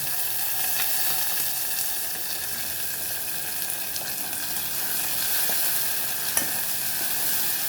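Green chili, garlic, onion, tomato and curry leaves fry together for dal in a constant, close, hissing sizzle. The sound stays fairly even throughout, with a faint click or two and no speech.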